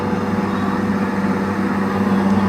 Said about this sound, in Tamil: அது வந்து ஏசியோடைய காற்று.